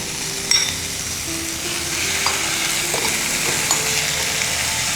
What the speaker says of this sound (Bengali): গ্যাসটা বাড়িয়ে আমি চিকেনটা পুরোটাই দিয়ে দেবো